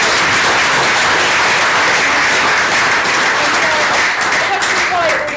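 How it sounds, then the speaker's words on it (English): A conference audience gives a steady round of applause after an edtech investment primer, dense and sustained for about five seconds with faint voices mixed in. "Round of applause for that"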